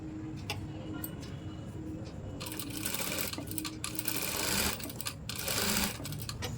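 Sewing machine stitching double piping onto a blouse, a steady close mechanical whirr with fine ticking that swells louder in bursts partway through.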